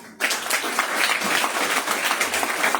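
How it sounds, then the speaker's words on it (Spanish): A church congregation gives loud applause, dense rapid clapping bursting in after a brief pause and continuing steadily and close at full strength. "denle un fuerte aplauso."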